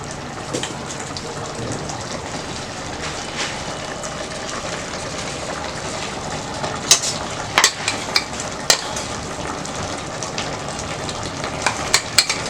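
Ground masala paste is stirred into gongura chicken curry frying in a pan, giving a continuous crackling sizzle with scattered sharp pops and clinks that grow busier toward the end.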